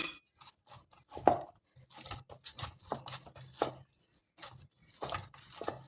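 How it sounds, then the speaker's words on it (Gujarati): Methi thepla dough, with a spoonful of oil added, is kneaded by hand, producing soft, irregular squishing and slapping presses in a loose rhythm, close but quiet, with no voices. "તો હવે આપણે એની ઉપર 1 ચમચી જેટલું તેલ નાખી અને ફરીથી આપણે મસળી લઈશું।"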